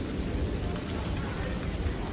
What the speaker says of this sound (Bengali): এই যে একদম মুষলধারে বৃষ্টি শুরু হয়ে গেল